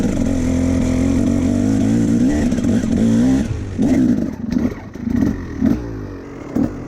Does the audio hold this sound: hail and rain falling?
no